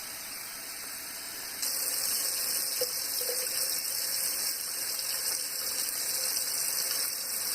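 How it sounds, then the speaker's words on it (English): Water runs from a tap into a container, a steady hiss of flow that suddenly grows louder partway through and then stays constant, with no one talking. "I might just have to have the water running all the time."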